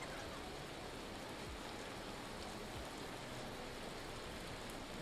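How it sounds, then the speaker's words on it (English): Hail pelting down in the survival game Vintage Story, a steady dense hiss of countless small impacts like heavy rain, constant and fairly quiet throughout with no voices. "Why must it be hailing right now?"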